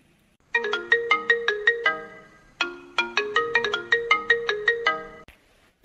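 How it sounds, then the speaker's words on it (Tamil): A bright electronic phone ringtone plays a repeating melodic chime pattern twice, clear and close, with no talking. "யாரு மறுபடி ஃபோன் அடிக்கிறா"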